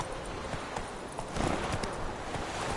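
Roach the horse from The Witcher 3 trots along in a rapid, steady clip-clop of hooves, moderately loud and close, with no talking.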